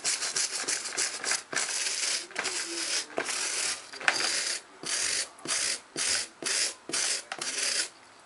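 A firm-bristled brush scrubs a shoe in quick, close rasping strokes, a rhythmic series of bursts with brief pauses between them, loud and alone.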